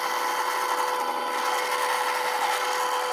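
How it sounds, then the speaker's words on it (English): A power drill whines steadily while boring through a plastic milk crate, a continuous high buzzing grind with no pauses or speech. "Alright, so just drilling the holes"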